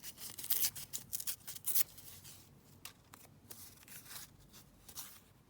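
Paper strips torn by hand, a cluster of crisp ripping bursts early on, then sparser, quieter tears and rustles close by.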